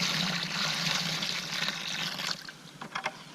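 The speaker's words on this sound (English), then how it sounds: "And you add about, I don't know, a quart, half gallon of water." Water poured from a container into a rock dust mix outdoors, a loud rushing splash that tapers into lighter trickles and drips.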